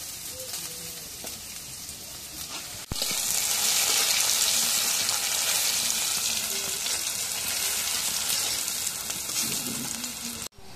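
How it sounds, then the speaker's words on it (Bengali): Oil hisses and sizzles loudly in a wok, a sudden burst that stays strong and steady with light stirring noises underneath. "এখন এই কড়াইয়ের মধ্যে তেল দিই"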